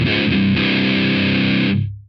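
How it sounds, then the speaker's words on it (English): Electric guitar through a Joyo Boogie Master Ironman Rectifier amp simulator pedal, a loud, heavily distorted sustained chord that rings for under two seconds before being cut off and fading. "you want that best distortion sound that you can get"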